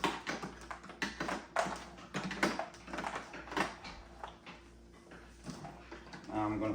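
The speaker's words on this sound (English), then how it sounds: "So now I'm going to unwrap this" Crinkly plastic wrapping being pulled off a new BISSELL Little Green portable carpet cleaner, a run of close, uneven rustles and taps with short pauses, over a low steady hum.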